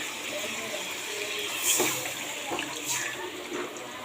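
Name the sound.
pouring broth into rohu fish curry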